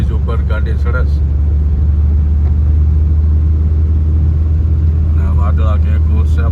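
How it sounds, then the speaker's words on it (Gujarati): A car climbs onto the Tapi river bridge in Surat during heavy monsoon rain, its engine a loud steady low rumble from inside the cabin, with people talking over it at the start and end. "તાપી નદીના બ્રિજ ઉપર ગાડી ચડે છે."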